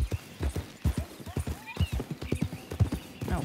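Horse hooves clip-clop at a steady walking rhythm in the Red Dead Redemption 2 video game, close and distinct with regular hoofbeats and a faint whinny-like tone in the background.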